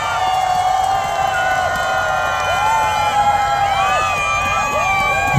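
Festival crowd at an outdoor lantern festival in Incheon, cheering, whooping and shouting for a singer, with loud overlapping shrill voices and whistles rising and falling around a steady hubbub.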